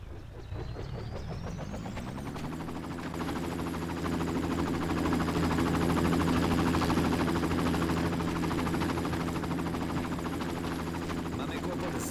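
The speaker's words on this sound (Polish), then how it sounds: "Mamy kłopot z wirnikiem w helikopterze." A helicopter with rotor trouble in the Far Cry PC game: a continuous engine and rotor drone that spins up and builds over several seconds, then holds a steady, moderately loud hum.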